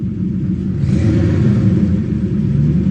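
A Toyota 1UZ V8 revs as the throttle is blipped, a close low rumble swelling briefly and then holding at a steady idle-like drone.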